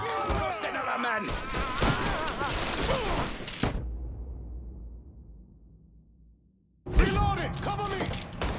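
Video game gunfire from Mafia 3 Definitive Edition, with dense bursts of shots and clatter under shouting voices, then a fading tail and a short silence before loud firing and talk resume.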